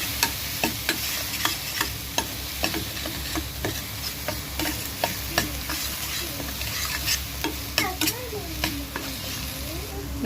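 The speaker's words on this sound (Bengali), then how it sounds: "দেখো মশলাটা আমার প্রায় কষানো হয়ে গেছে।" Spice paste with turmeric sautéing in a pan under a constant sizzle, with frequent sharp ticks and scrapes from a spoon stirring it, close and fairly loud throughout.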